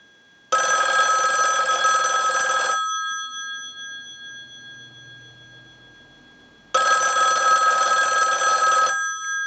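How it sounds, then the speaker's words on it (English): A Western Electric 554 rotary wall telephone bell rings loud and close in two long, even bursts separated by a silent pause, like an incoming call cycle. "use our analyzer and send a ring cycle like you were getting a call"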